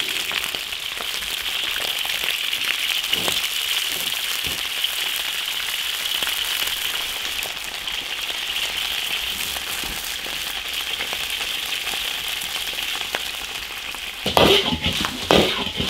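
Loach fish sizzles and spits steadily in hot oil in a wok, a constant crackling hiss that swells briefly near the end, with no voices.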